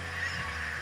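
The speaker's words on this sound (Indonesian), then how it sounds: "Ini Jo Bebek nih, nama Bianco nih Bebek" A duck calls in a short, loud honking burst lasting under a second, heard alone with a steady background hum and no talking.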